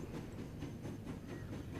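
Steam-era locomotive in Transport Fever pulling out, heard as a faint, rhythmic chuffing and rail clatter with soft repeated beats over a low rumble, brief and distant-sounding.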